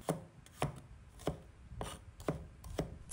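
A knife dices scallion, ginger and garlic into small pieces on a cutting board in six crisp, evenly spaced strokes about half a second apart, close and clear with no talking.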